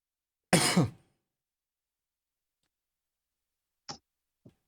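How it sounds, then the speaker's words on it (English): A single harsh cough or throat clear close by, followed by a couple of faint short clicks in otherwise silence. "I was just coughing"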